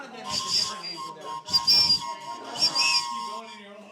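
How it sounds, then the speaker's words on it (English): Small toy train whistles give three breathy, high-pitched blasts in a row, with a steady tone running underneath them. "these awesome little train whistles"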